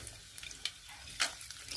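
Crackling, spitting sizzle of spices, mustard seeds and cashews frying in hot ghee, with sharp pops and bursts over a steady hiss, close up.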